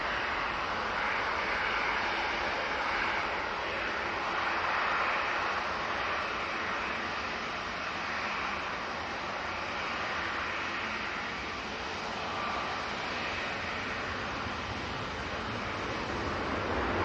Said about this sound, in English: So this is VS 128 coming in from New York JFK.